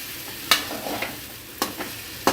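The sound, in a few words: stirring masala into frying kothu parotta on low flame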